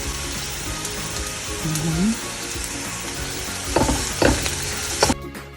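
Garlic for a seafood paella sautés in a pan with a steady sizzle and scraping stir strokes, louder clatter near the end; faint voice-like tones briefly under the frying.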